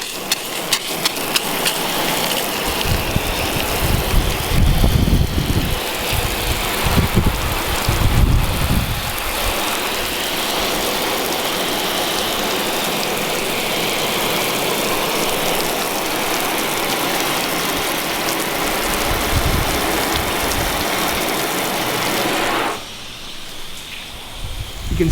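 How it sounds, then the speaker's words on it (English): A hose nozzle sprays water onto a car's painted surface, a steady, loud hiss of spray running almost continuously before cutting off near the end. "I'm going to try to use this nozzle to break up the water just a little bit"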